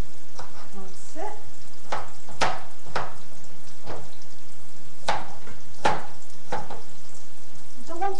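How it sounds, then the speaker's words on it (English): A knife chops an onion on a board, sharp irregular knocks close by against steady background hiss, with a voice speaking between cuts. "chop the onion like this."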